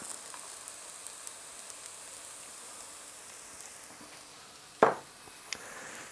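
Onions and garlic cook in a pan for Filipino lumpia filling, giving a faint, steady sizzle with a sharp utensil clack near the end. No one speaks.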